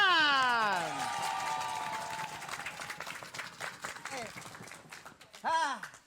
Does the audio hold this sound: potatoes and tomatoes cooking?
no